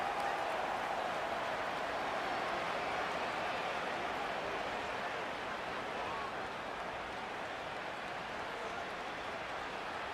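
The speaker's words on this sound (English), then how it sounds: "The crowd at Arrowhead roaring." Roaring stadium crowd at Arrowhead in the Madden 25 football video game, a steady dense wash of cheering that holds loud and even throughout without breaks.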